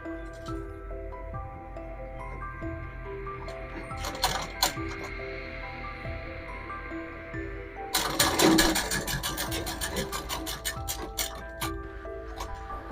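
A sewing machine stitches a frill sleeve, soft scattered clicks and handling at first, then a fast rattling run of stitching in the last five seconds, close and moderately loud.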